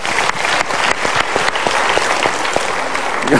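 Audience at an Indonesian motivational talk show gives a burst of steady, dense applause, loud and close, with a few sharper claps standing out near the end.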